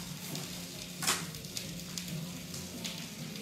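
A whole onion with coriander sizzles steadily in a pan, a soft continuous fry with an occasional brief scrape of stirring and no voices.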